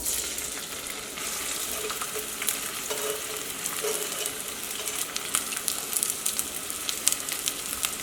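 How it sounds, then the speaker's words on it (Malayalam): Onions with crushed garlic and ginger fry in hot oil, giving a continuous close sizzle with scattered crackles and spoon-stirring scrapes, no talking over it. "ഈ സവോളയൊക്കെ നന്നായിട്ടൊന്ന് വഴന്ന് വരണം."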